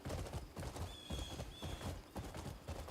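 Horse hooves clip-clop at a steady trot in the open-world video game Crimson Desert, close and rhythmic with no talk over them.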